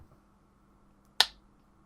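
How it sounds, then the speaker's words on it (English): A single sharp hand clap, close and crisp, standing alone against a quiet background during a podcast recording. "That was a spoiler clap."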